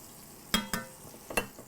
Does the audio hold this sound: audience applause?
no